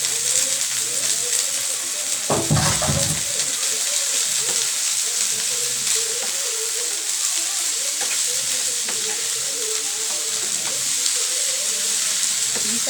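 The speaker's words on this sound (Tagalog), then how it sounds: "Gisa-gisa lang muna." Thinly sliced string beans (sitaw) sautéing in a hot pan, a loud, steady sizzle and hiss throughout, with a brief clatter of a utensil stirring near the start.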